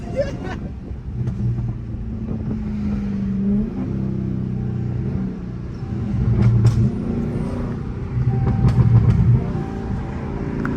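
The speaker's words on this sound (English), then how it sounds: "Now we riding Urus." A Lamborghini Urus engine hums and swells through city streets from inside the cabin, with rising revs and wind noise while people talk intermittently.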